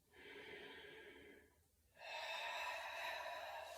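Two long breaths during a Pilates shoulder bridge: a steady inhale lasting about a second and a half, a short pause, then a louder, forceful breath that runs on to the end. The breathing is close and clear, with no talking.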